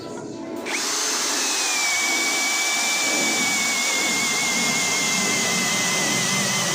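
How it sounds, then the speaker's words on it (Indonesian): A cordless drill in low gear and drilling mode bores mahogany wood with a 19 mm auger bit, giving a loud, steady motor whine with a thin rising tone that carries on nearly unbroken after a brief start. "Pertandingan ketiga menggunakan mata bor Auger 19 mm pada percepatan nomor 1 atau yang low, dan modenya adalah mode drilling."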